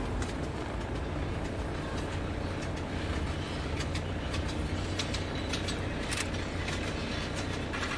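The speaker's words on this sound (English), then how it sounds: "We got ourselves a cane train." A sugar cane train rumbles steadily along the rails nearby in Queensland, a constant heavy roar with faint clicking and metallic squeals on top.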